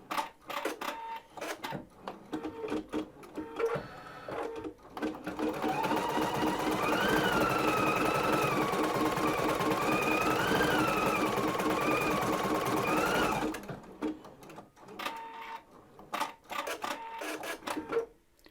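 An embroidery machine stitches an outline onto fabric backed with stitch-and-tear stabiliser. A steady, loud, fast mechanical whirr with a rising and falling tone runs for about eight seconds, framed by quieter clicks and machine handling before and after.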